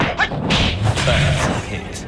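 Hits landing in a ninja fighting game, a few sharp thuds and whooshing strikes in quick succession, loud and close, with a voice speaking briefly.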